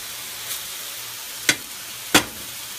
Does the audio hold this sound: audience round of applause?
no